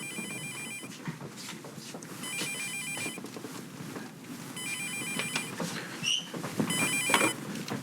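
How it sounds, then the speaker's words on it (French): A telephone rings indoors in repeated bursts of electronic trilling separated by short gaps, fairly loud and close, with some faint background shuffling but no talk. "puis que le téléphone il sonne"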